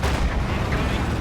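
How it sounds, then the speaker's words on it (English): Katyusha rocket artillery firing in a World War II strategy video game during a tournament showmatch, a dense, loud rumbling barrage that fills the short moment without a break. "Marcus's Katyusha did go for 1"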